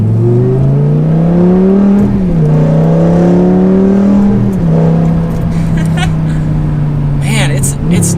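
A manual V8 car with an Armytrix aftermarket exhaust revs up and holds a loud, droning engine note, rising and falling in pitch across several throttle changes, heard from inside the car.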